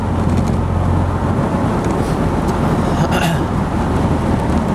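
A 2024 Morgan Plus 4 driving in standard automatic comfort mode, its subdued exhaust a steady low drone blended with road and wind noise, continuous and moderately loud.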